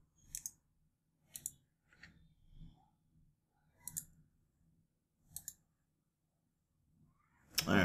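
A computer mouse clicks in a quiet room, sharp distinct double clicks repeated several times at irregular intervals, close and crisp with faint low hum between them.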